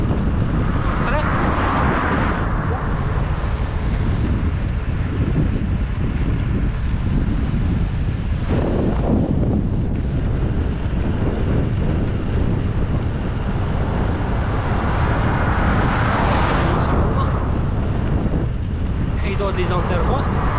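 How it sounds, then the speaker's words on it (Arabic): Constant heavy headwind buffeting the microphone while cycling, roaring and gusting throughout, with a voice talking faintly beneath it. "كاين الريح معاكسنا دابا"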